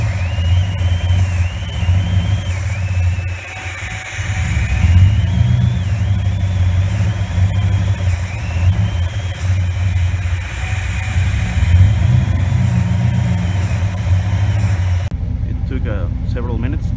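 A car engine idles and revs repeatedly as it is run to clear intake carbon buildup after a dose of CRC intake valve cleaner, giving a loud steady drone with rising surges, then cutting to quieter ambient noise near the end.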